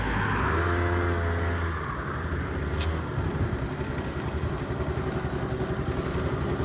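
A Honda Dio AF-34 scooter engine is held near, first at a rising drone, then at a dense, rough full-throttle buzz that continues steadily to the end.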